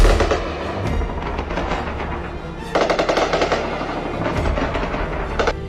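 Machine-gun fire aimed at Indian Army posts along the Line of Control: dense, rapid bursts of automatic shots, loud and crackling, with a short lull before another heavy volley, and no voices.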